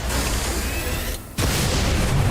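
Gunfire booms in XCOM 2, a heavy, loud blast with a rumbling tail, briefly cut off by a short quiet gap before another heavy burst.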